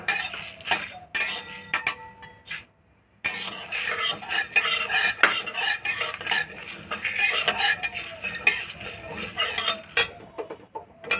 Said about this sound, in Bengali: ধনেটা একটু ভাজা হয়ে গেছে এবারে মৌরি জিরেটা দেবো